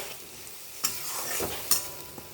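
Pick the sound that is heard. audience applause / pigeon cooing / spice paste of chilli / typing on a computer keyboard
spice paste of chilli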